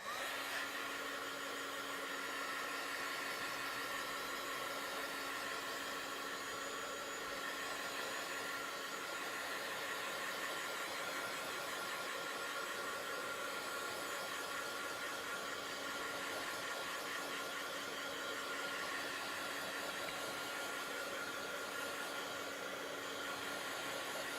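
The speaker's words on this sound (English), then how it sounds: "I'm going to grab my heat gun." Electric heat gun blowing hot air to strip old paint, a steady, unbroken whooshing hum with a faint whine that holds at an even level throughout, with no voices.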